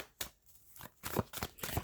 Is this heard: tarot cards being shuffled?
yes